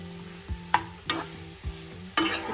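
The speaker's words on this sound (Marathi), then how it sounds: "छान असं परतून घ्यायचं गॅस असं मी स्लोच ठेवलाय" Spiced potato filling for Mumbai vada pav being stirred in a pan over low heat, with a handful of soft scraping strokes over a faint steady sizzle.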